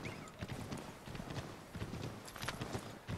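Horse hooves clip-clopping in a steady galloping rhythm while riding in the video game Assassin's Creed 3, moderately loud and continuous.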